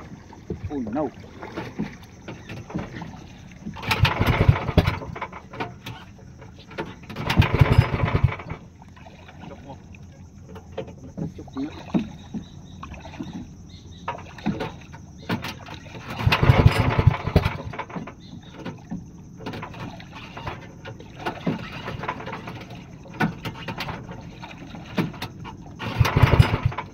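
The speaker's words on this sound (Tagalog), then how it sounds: "nahihirapan magpandar ng makina guys." A small boat engine at sea is cranked repeatedly without catching: several separate bursts of sputtering effort between quieter stretches, with a person talking faintly nearby.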